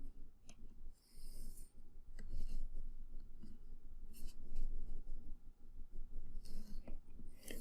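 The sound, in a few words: pencil drawing perspective lines on paper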